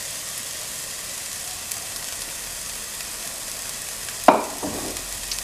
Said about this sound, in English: you can add your chili and your ginger to the mix